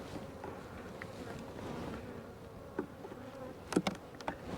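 Gentle honey bees from Conan and Sons in Glen, California swarm around a hive with a steady, close droning buzz, joined near the end by a few sharper passing buzzes.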